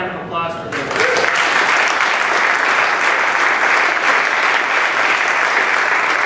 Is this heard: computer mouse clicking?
no